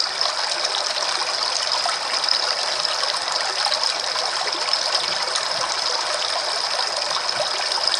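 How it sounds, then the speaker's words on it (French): Cold river water flows in a steady, continuous rush with a bright hiss, close and unbroken, with no voices. "Mais l'eau de la rivière est glacée."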